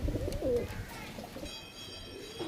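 Rajasthani Kalmoy and Bajra pigeons giving a single soft coo up close at the start, then faint low murmurs fading into quiet background noise.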